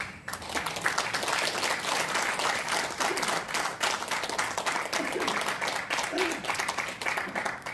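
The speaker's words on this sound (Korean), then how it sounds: "큰 박수로 맞아주시기 바랍니다." An audience at an election-movement launch ceremony and press conference claps steadily and densely, welcoming a speaker to the stage, with sustained applause filling the whole stretch.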